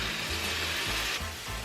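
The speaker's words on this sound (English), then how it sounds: "So you add the black beans." Black beans added to a pan with browned onion and garlic sizzle steadily, a close, even hiss of frying with a few soft stirring knocks and no talking.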